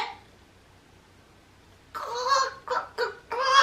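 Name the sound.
chickens being fed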